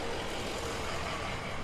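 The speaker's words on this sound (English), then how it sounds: "Now that's the school bus yard." Steady engine rumble from buses idling at a school bus yard in Yonkers, a dense, continuous drone that stays level throughout with no speech.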